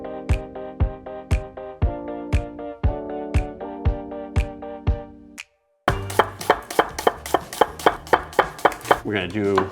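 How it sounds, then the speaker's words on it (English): Vegetables chopped for shrimp stock with a knife on a cutting board: a steady run of sharp, close taps, slower at first, then a faster even rhythm after a brief pause, with background music and no talking. "I'm gonna start cutting some vegetables for the stock"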